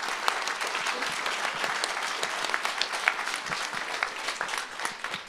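An audience applauding at a talk, a steady dense clapping from many people that holds for about five seconds at moderate loudness, with no speech over it.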